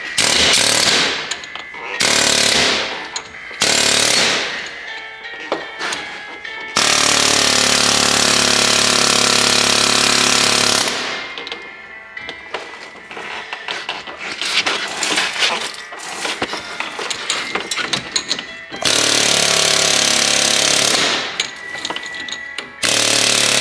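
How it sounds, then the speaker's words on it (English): Air hammer pounding on the lower ball joint of a GMT800 truck's front suspension, loud rapid hammering in several bursts of a few seconds each, close up, with quieter gaps between and no talk. "I'm gonna see if I can just air hammer out the lower ball joint quick"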